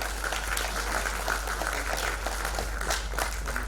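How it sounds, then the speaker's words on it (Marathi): Steady, dense applause fills a hall at an award ceremony in Pune, a continuous crowd clapping that holds level throughout, with a low hum beneath. "जोरदार टाळ्या उद्या यांच्यासाठी"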